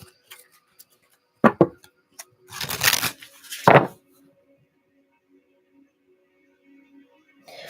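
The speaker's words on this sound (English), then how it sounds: "I'm going to shuffle the deck for Helga." A deck of oracle cards is shuffled by hand in short riffling bursts separated by quiet pauses, with a few light taps and clicks before and after.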